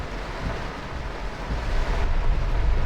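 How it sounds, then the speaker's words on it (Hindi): Heavy monsoon rain pours steadily outside a home during flooding, a dense continuous hiss and roar that swells slightly louder toward the end, with no talk. "बारिश का पानी बहुत ज़्यादा हो गया है और बहुत हैवी रेन हो रही है अभी तो इस वक्त।"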